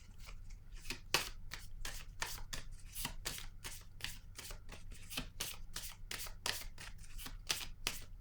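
Tarot cards being shuffled by hand, a rapid run of crisp riffling snaps and flicks repeating steadily over a faint low hum, close and fairly quiet, with no talking.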